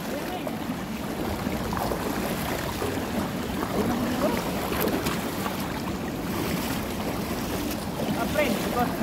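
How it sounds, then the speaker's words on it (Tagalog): Strong river current rushing in a continuous broadband roar, with wind buffeting the microphone and faint voices in the background. "The water is very strong."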